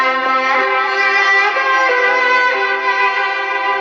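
A song plays through an Android phone's small loudspeaker during a test, thin and tinny with no deep bass, a steady stream of bright tonal notes at constant volume and no voices.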